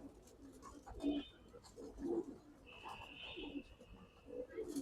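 Pigeons coo softly in repeated low murmuring phrases, close by and fairly quiet, with a faint high tone in the background.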